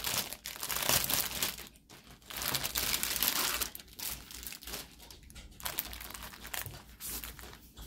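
Large glossy paper sewing pattern being unfolded and handled, giving bursts of close, crisp crinkling and rustling with short pauses between them.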